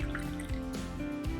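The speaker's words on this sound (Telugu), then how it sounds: "కప్పు బెల్లం పొడికి కప్పున్నర వాటర్ పోసుకుందాం" Water poured onto powdered jaggery in a pot, a steady close trickling and dripping that runs continuously for about a second and a half with no voices.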